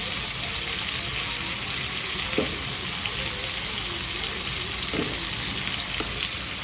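Potatoes added to frying shrimp and spices are stirred in a pan, a steady close sizzle with a few distinct scraping knocks of the spoon spaced seconds apart, no talking.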